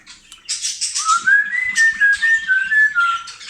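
A person whistles a sustained, wavering tone close by to budgerigars, rising then holding steady, with faint rustling and chirpy noises around it.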